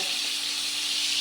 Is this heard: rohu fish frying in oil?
yes